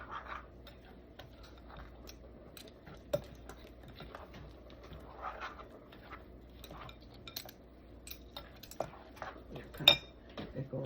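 Eggs and buttermilk are whisked into a batter in a bowl, with faint, irregular clinks and taps of the utensil against the bowl in a quiet kitchen.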